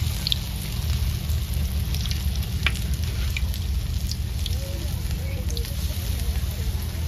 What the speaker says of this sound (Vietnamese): chỉ cần chiên cho nó chín cái lớp bột rồi được rồi đó nha